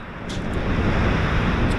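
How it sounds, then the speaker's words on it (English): A brisk northwesterly wind gusts across Chesil Beach at Ferrybridge, making a steady, full roar of air buffeting the microphone for under two seconds. "we got a brisk northwesterly wind"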